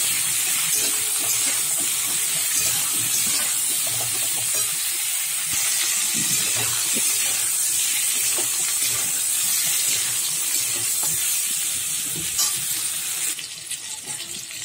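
Pointed gourd pieces frying in oil with salt and turmeric, giving a loud, steady, bright hissing sizzle that runs unbroken, with faint scattered clicks and a slight drop near the end.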